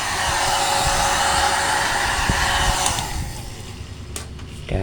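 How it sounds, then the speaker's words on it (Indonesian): A hair dryer blows steadily on washed electric fan parts, a loud, even whirring hiss that drops to a lower, quieter hum near the end, with a few small clicks and knocks. "bisa menggunakan ini ya, pengering rambut untuk mengeringkan"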